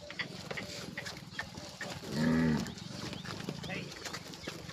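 A cow lets out one low moo in the middle, heard over outdoor background noise and nearby voices.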